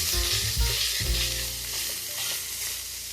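Ground beef with seasoning sizzles loudly in a hot pan while being stirred, with scraping spoon strokes over a constant close frying hiss for creamy garlic beef pasta shells.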